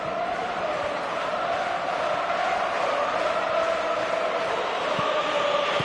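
Football stadium crowd in a PS4 football video game, a steady roaring murmur of thousands of fans with a faint chanting hum, continuous and even throughout.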